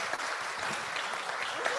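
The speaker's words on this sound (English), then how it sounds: "Let's give Mike a round of applause." Audience applause at a community gathering after a speaker is thanked, a brief, fairly faint wash of many hands clapping at even density.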